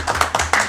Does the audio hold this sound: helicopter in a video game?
no